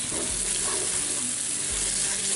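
Short grain Valencia rice frying in a 14-inch Lodge cast iron paella pan with seafood, a steady dense sizzle with faint stirring scrapes, close and alone.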